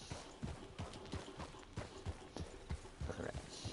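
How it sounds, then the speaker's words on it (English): Wild horses gallop in the video game Red Dead Redemption 2, their hoofbeats thudding in a quick, irregular rhythm at moderate distance over a faint background rush. "Oh, wild horses."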